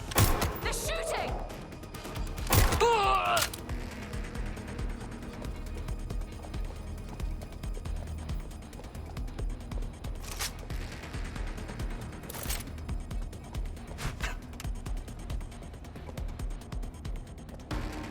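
Gunfire in the Watch Dogs: Legion video game opens with a loud burst of shots, then sporadic sharp cracks continue farther off over a steady background of game noise.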